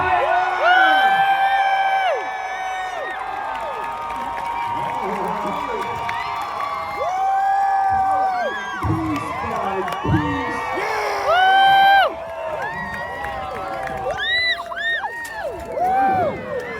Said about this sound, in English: If you want gold, raise your voices for Sir Tyler!